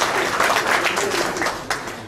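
An audience at a dedication ceremony for a restored Bible claps in a steady, dense patter of applause that stays fairly loud throughout the short burst.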